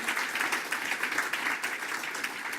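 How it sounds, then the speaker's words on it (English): Conference audience at the close of the CFA NZ "The Alternatives" conference applauding, a moderate, steady patter of many hands clapping with slight pulsing, somewhat distant, for a couple of seconds. "Can we have like a round of applause?"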